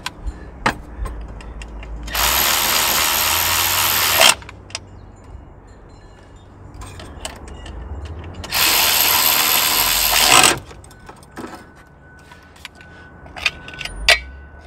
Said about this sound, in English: Just putting all the screws back in here.